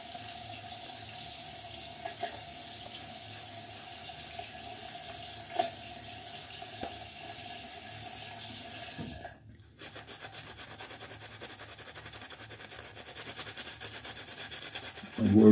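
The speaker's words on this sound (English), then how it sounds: "I must add a little bit more water on the tips here." Tap water runs steadily into a sink while lathering for a shave, a continuous splashing stream that cuts off partway through. Quieter rubbing and handling sounds follow.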